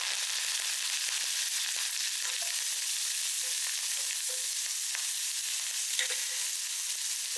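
Green chili, onion and curry leaves frying in oil after mustard and cumin seeds have spluttered, a steady bright crackling sizzle held close and constant, with scattered small pops and no talking.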